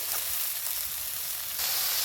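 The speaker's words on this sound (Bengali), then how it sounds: "এবারে কেটে রাখা বাঁধাকপিগুলো দিয়ে দেবো।" Chopped cabbage hits hot oil already frying ginger and green chili, giving a loud, steady sizzle that swells briefly as the vegetables go in, with no talking.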